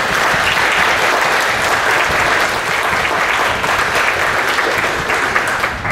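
A church congregation applauds newly confirmed candidates with steady, dense clapping that holds at the same level from start to finish and fades slightly at the very end.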